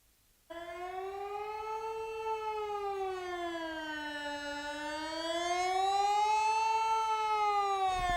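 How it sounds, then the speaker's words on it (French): A civil defense siren in Nyon, Switzerland wails alone during an alarm test, its tone slowly rising and falling in long sweeps, starting suddenly and growing louder toward the end. "hier les sirènes ont résonné dans toute la Suisse dans le cadre des tests d'alarme"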